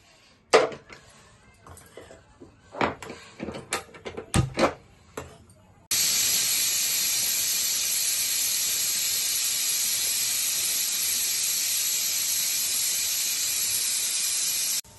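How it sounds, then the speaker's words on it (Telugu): After a few seconds of scattered clinks and taps, a pressure cooker boiling peas with salt and turmeric releases a loud, continuous hiss of steam that holds steady for about nine seconds before cutting off abruptly. "మూడు విజిల్స్ అయితే వచ్చినాయి."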